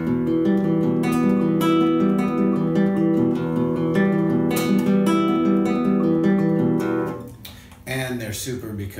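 Flamenco guitar arpeggio played with the thumb: a steady, continuous run of ringing plucked notes rising and falling, loud and close, before a voice briefly speaks near the end.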